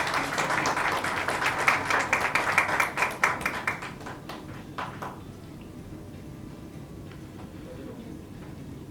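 Audience applause at a Marathi film trailer launch event greeting producers called onto the stage, a dense burst of clapping that swells over the first few seconds, then fades to scattered claps and room noise.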